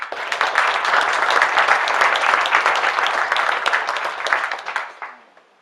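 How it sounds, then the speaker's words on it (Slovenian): An audience at a tech lecture meetup gives a speaker a round of applause: dense, steady clapping from many hands that holds for several seconds, then tapers off and fades to quiet. "No, potem lep aplavz"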